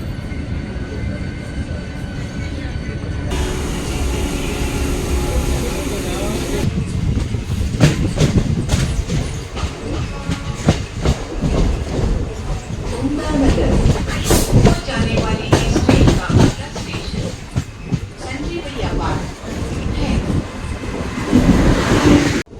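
Train running on rails during a journey, a loud continuous rumble with rhythmic clickety-clack of wheels over rail joints, steady throughout with occasional clattering bursts.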